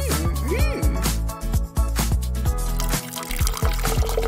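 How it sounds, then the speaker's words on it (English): Juice is poured into a container as a craft project, with a splashing trickle over a noisy music-like backdrop. "Pour some juice inside."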